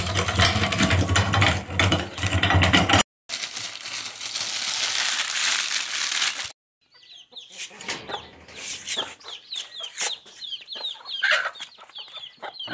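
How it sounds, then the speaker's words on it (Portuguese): A machine grinds corn for chicken feed with a loud, rough, steady churning noise that cuts off, followed by hens clucking nearby. "Moendo milho para tratar das galinhas."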